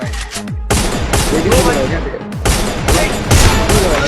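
Rapid bursts of automatic gunfire in a shooter video game, loud and close, several sustained volleys separated by short gaps, with someone talking excitedly over them.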